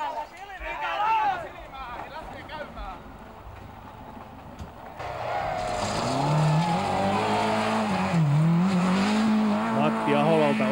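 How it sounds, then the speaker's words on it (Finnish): Engines roar and tyres squeal as rally cars race on a dusty stage where one car loses control and a Volvo rolls over. The sound grows louder and rougher partway through, under a commentator's voice. "Matti Aholalta on mopo karata käsistä."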